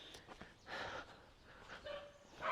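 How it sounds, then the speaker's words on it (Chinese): A dog barks a few times at a distance in a rural Guizhou village among old tile-roofed houses, the barks faint and intermittent against quiet outdoor ambience. "我听到狗叫声了"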